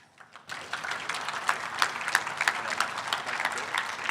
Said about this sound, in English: So that's an applause time.